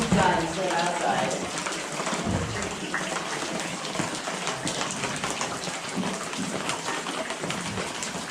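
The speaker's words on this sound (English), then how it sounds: "It's raining inside instead of outside." Water dripping and splattering like steady rain inside a cave beside the Colorado River in the Black Canyon, a dense continuous patter of drops, with voices talking over it.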